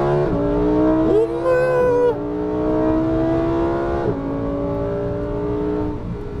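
A Lamborghini Huracán EVO revs hard and climbs through gears toward 200 km/h, loud rising engine tones broken by sharp upshifts, with brief cabin chatter.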